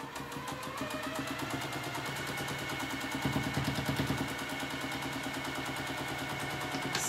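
Sewing machine back stitching then running forward along a quilt fabric strip, a steady rapid mechanical chatter with rhythmic needle pulses held close and continuous throughout.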